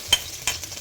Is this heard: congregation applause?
no